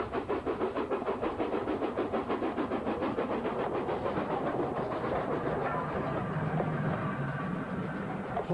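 Flying Scotsman steam locomotive running on a demonstration line at Didcot, a steady rhythmic chuffing and rolling clatter throughout, moderately loud and continuous with no voices.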